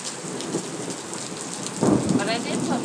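A thunderstorm with steady rain pattering on surfaces, joined by a deep rolling rumble of thunder that swells in the final second.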